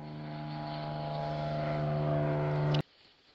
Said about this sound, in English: So perhaps we would look at a plane.